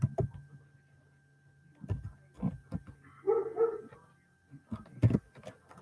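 Dogs bark and yip in short irregular bursts somewhat in the background, with a few higher whimpering cries mixed in between quiet gaps.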